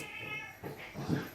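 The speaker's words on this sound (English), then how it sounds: "My cats are fighting, so sorry." Cats fighting at home, one cat screaming at the other in short, harsh yowling bursts that rise and fall at close range.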